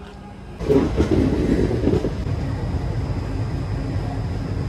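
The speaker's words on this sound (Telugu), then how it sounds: "ఇప్పుడు దాకా మన ట్రైన్ 864 కిలోమీటర్లు ట్రావెల్ చేసింది" A passenger train crossing from Andhra into Tamil Nadu near Jolarpettai Junction runs along the rails as a steady rumbling roar heard from inside, with a heavier clatter swelling in after a quiet first half second.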